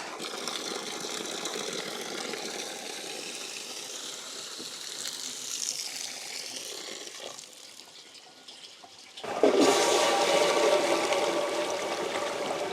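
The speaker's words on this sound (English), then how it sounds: "we should hear a good suction sound" Rushing water flows steadily, then drops off before a sudden loud gush of water being drawn through a micro hydro intake pipe takes over, continuing strongly to the end.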